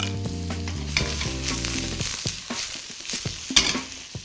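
Cucumbers stir-frying with ginger and spring onions in hot oil in a wok, a steady close sizzle broken by repeated scraping and tossing clatters, with no talking.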